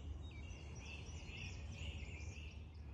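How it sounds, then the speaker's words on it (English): Birds singing in morning woods at a park, several thin chirps and trills at moderate distance over a soft steady hum of insects. "it's just really wonderful to be here in the woods listening to all the birds waking up this morning"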